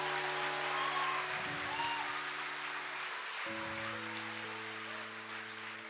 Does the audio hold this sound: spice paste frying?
no